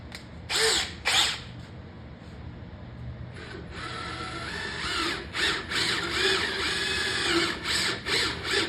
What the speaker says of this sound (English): I'm gonna drill a hole first, straight down